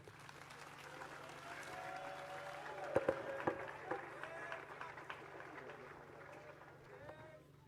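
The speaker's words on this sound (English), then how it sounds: "Let's continue to applaud the Chief Executive Officer of the college" A crowd at St. Augustine's College 93rd anniversary speech day applauds the college's chief executive officer, and the steady, moderate clapping continues with a voice speaking over it.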